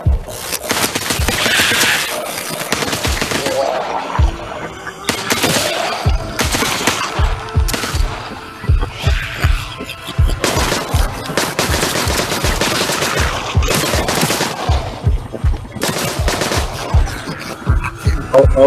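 Video game gunfire rattles in rapid automatic bursts, loud and nearly continuous, with sharp individual shots punctuating the sustained firing.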